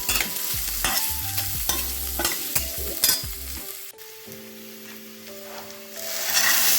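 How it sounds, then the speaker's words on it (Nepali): Chopped onion, ginger and garlic being stirred and fried in a pan, with a continuous sizzle under repeated scraping strokes of a spatula and a few clanks, close up, with no talking. "अदुवा लसुन राखेर एकछिन मैले भुटेँ"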